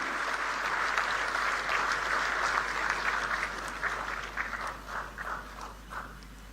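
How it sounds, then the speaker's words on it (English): Sustained applause from a large audience at the launch of a quantum innovation hub in Amaravati, loud and steady at first, then thinning into scattered claps toward the end. "A huge round of applause."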